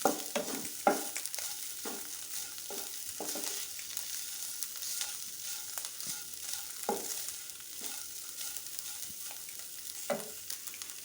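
Boiled meat being fried in a pan gives off a steady sizzle, with repeated scraping strokes of stirring rising over it at an uneven rhythm.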